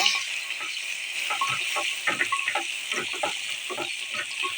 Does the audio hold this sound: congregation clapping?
no